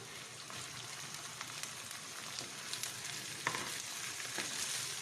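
Green beans, mushrooms and onions stir-frying in a pan give a steady, moderately quiet sizzle, dotted with light clicks and scrapes from stirring, with no talking.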